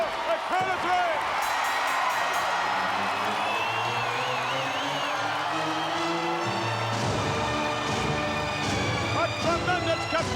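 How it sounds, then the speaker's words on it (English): A capacity wrestling arena crowd roars and cheers for Macho Man Randy Savage after a pinfall, a dense sustained wall of noise with whoops and shouts, while a commentator's voice runs over it throughout. "A tremendous capacity crowd on their feet for the Macho Man, Randy Savage."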